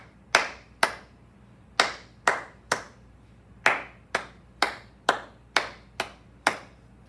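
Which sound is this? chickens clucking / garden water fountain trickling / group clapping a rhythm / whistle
group clapping a rhythm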